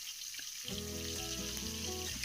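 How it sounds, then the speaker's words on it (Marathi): Butter sizzling steadily in a hot kadhai over a gas flame for pav bhaji, a crackling fry that starts abruptly and continues close up, alone with no voices. "आता गॅसवरती कढई गरम करायला ठेवायची आणि ह्यामध्ये बटर टाकून घ्यायचं आहे"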